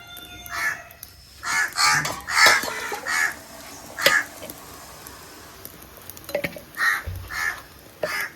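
Crows caw in repeated harsh bursts, loud and close, with short gaps between calls and a faint background hum.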